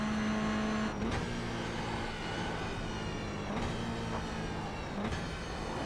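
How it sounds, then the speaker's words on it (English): A car engine in a racing sim video game whines steadily through downshifts, a sustained tonal drone with brief revving blips and shifts at intervals, loud and close. "What's that weird noise coming when I downshift? This engine is whining."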